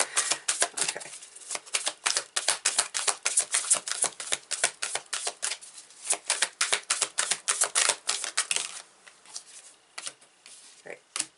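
Tarot cards are pulled and flicked out of a deck in a fast run of close, crisp snaps and riffles, thinning toward the end.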